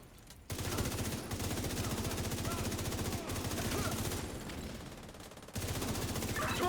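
Rapid automatic gunfire in a video game, loud and sustained across the whole stretch, with dense bursts that dip briefly and then resume at full strength.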